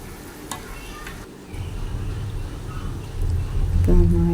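Cooked mutton being stirred with masala in a pan for mutton roast, with scraping and sizzling that grow louder partway through and a low hum underneath.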